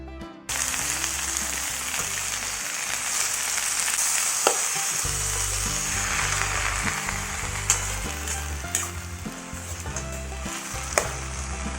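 Fifteen to twenty green chilies and garlic cloves frying in oil for coriander chutney, a loud continuous sizzle with occasional sharp pops and a faint rhythmic music bed underneath, no voices.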